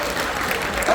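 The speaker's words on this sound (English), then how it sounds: "So give them a big round of applause" A short burst of audience clapping for a medical team during a vote of thanks at a 2025 VBS event, a brisk, close patter of hands with no talk.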